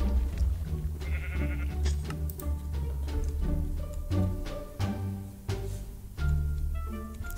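Sheep bleating in the Minecraft video game, a few short synthetic bleats sitting under loud, dense game music and effects that fill the background throughout.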